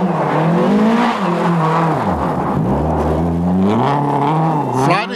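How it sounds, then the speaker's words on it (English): Nissan-engined Mazda rally car competing on the 1996 Circuit of Ireland Rally, its engine loud and close with a sustained rising and falling whine as it revs, dips around the middle and climbs again. "James Armstrong in the Nissan engine Mazda really gives us a show"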